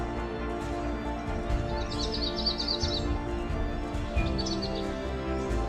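Birds in the Amazon rainforest chirp in short bursts, a cluster of quick high calls then another later, over a steady dense background hum of forest ambience.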